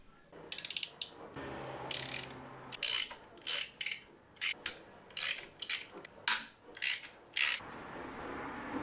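Hand ratchet clicks in bursts while backing out 10 mm bolts from the oil pump on a Nissan RB30 engine block, close and crisp, with about a dozen short rhythmic runs separated by brief pauses and no talking.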